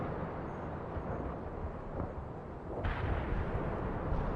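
Heavy artillery in the World in Conflict game rumbles as a dense, continuous roar of distant blasts and booms, swelling louder partway through.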